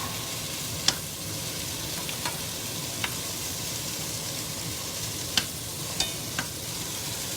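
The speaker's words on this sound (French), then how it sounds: "La viande, elle commence à bien cuire de tous les côtés." Chunks of beef for boeuf bourguignon browning over high heat in a pot, with a continuous loud sizzle and occasional sharp clicks of a utensil stirring against the pot.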